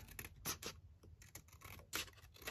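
Scissors snip through paper while envelope pockets are trimmed, a quick run of close, crisp cuts and scratchy rasps with brief gaps between strokes.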